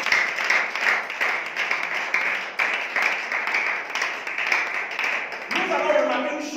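A church congregation at an evangelism service claps and cheers in acclamation of Jesus: sustained applause mixed with shouting voices, steady and loud throughout, with one voice rising near the end.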